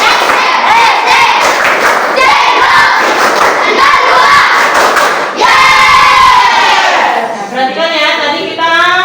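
Elementary schoolchildren in a sixth-grade class at SD Negeri Jenggron chant loudly together in a crowded room, their shouting mixed with thumps and claps, rising to a loud burst near the end before fading into singing voices.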